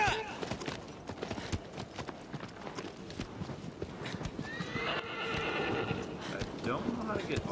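A horse gallops in Shadow of the Colossus, steady rapid hoofbeats with a whinny, while people talk over the game sound.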